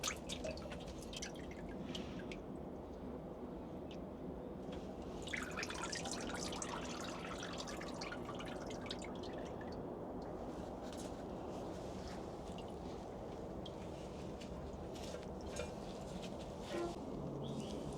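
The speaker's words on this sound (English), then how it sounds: "drain the water as much as possible." Water drips and trickles out of a bike frame as it drains, faint irregular drops and splashes continuing quietly without talk.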